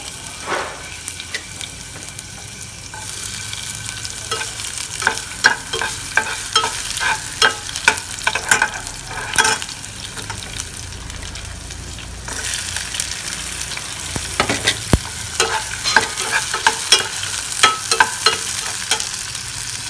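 Shallots sizzle and crackle in browned caramelized sugar while being stirred, with repeated scraping strokes over a continuous frying hiss and a brief lull midway.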